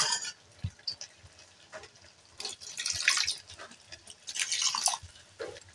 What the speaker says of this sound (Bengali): এতে অল্প পরিমাণ জল অ্যাড করব